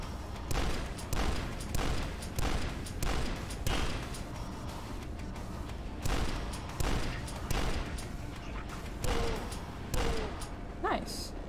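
Turret firing in a horror video game, repeated heavy booming shots in a steady rhythm about every second or so, loud and close, with a person talking over parts of the barrage.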